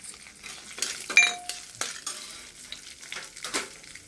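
Cumin seeds and lentils frying in a pan over a low flame, giving a soft, faint sizzle broken by several scraping stirs and one bright metallic clink of a utensil against the pan.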